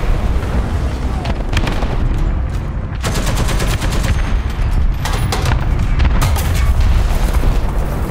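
Tank cannon fire and high-explosive shell blasts in a War Thunder match between American T34 and Soviet T-34 tanks, loud continuous booms and crackling bursts with repeated sharp impacts, a voice speaking over the din.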